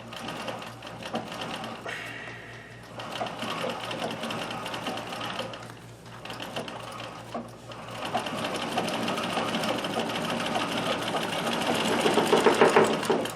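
A Riccar 570 stretch-stitch sewing machine with cams stitches fabric steadily, its motor whirring with a close, continuous mechanical hum and a faint rattle from the thread stand vibrating against a wall, building slightly louder toward the end.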